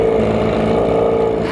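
BMW HP4 superbike running with its exhaust removed, a loud, steady raw engine drone held close for the whole moment without a clear rev rise.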